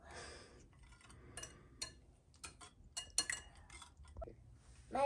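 A fork or whisk clinking and tapping against a bowl while French toast batter is stirred, with quick irregular metallic ticks, close and fairly quiet.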